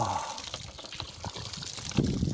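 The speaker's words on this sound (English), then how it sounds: "I'm gonna fill up the back water now." Water pours and trickles into a camper's water tank at a campsite, a steady splashing flow heard close by with brief low knocks and no talking.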